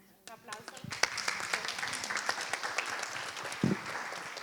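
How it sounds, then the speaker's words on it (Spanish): An audience at a dialogue between antiracist cultural initiatives breaks into applause, with individual claps building into steady clapping. Voices murmur underneath, and a louder clap or two stands out partway through. "Un aplauso."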